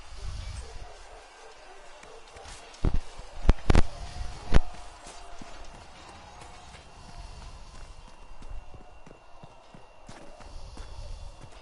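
Horse hooves clip-clop at a steady walking pace throughout a Dragon Age video game scene, with a cluster of louder, sharper knocks partway through.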